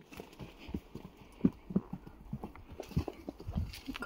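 A horse out on a ride clip-clops in a loose, uneven rhythm, the faint hoof beats close by and unaccompanied by talk.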